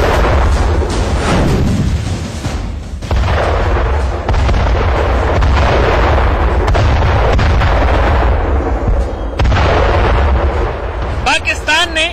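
Artillery fire from an Indian Army attack on Pakistani posts in Nowshera, Jammu and Kashmir: continuous heavy booming and rumbling blasts, loud and dense, with a voice talking over parts of it.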